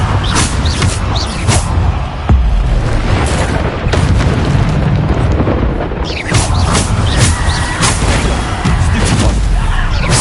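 Bombarda spell explosions from Hogwarts Legacy go off as loud, booming blasts in a steady run of impacts, with crackling debris and a rumbling low end throughout.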